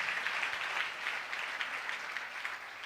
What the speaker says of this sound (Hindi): जोरदार तालियां बजाएं उस शख्स के लिए